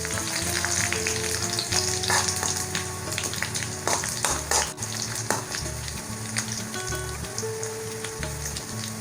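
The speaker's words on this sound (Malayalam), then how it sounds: "നമുക്കിനി ഇതിലേക്ക് കറിവേപ്പിലയും അതുപോലെ ഉണക്കമുളകും ഇടാം" Curry leaves and dried chillies fry with shallots in hot oil for a Kerala prawn and drumstick curry tempering, giving a steady close sizzle and crackle with a few sharper pops, and no voices.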